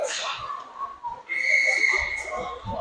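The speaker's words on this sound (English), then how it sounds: "It's going to be a whistle for a hook on Cooper?" A referee's whistle during a 2011 ice hockey game between the Columbus Capitals and Smokey Mountain Wild gives one sustained, shrill blast lasting about a second amid rumbling arena noise.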